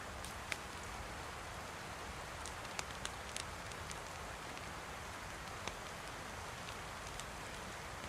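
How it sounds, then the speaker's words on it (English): A heavy rain downpour falls in the DayZ video game, a steady soft hiss of rain with scattered sharp droplet ticks, continuous and fairly quiet throughout. "And it is just a downpour."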